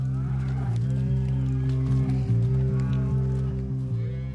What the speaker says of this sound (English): Up to 8 million cattle graze here.